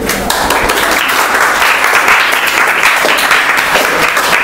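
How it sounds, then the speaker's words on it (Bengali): Children in a classroom clap after a correct answer, a loud, close, continuous burst of many small hands lasting several seconds. "হাততালি বেশি দেয়া যাবে না,"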